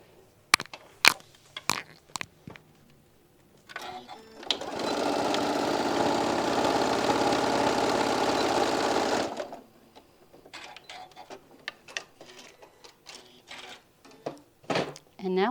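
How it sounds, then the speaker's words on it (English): A sewing machine stitches a small opening closed on a mop pad, a loud steady whirring burst of about five seconds, framed by handling clicks and a voice talking before and after. "we're just going to stitch that little opening closed"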